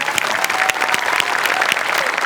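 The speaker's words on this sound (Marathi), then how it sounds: "जोरदार टाळ्या." Loud, steady audience applause at a Marathi comedy show after a dance performance, dense clapping filling the whole stretch with no speech over it.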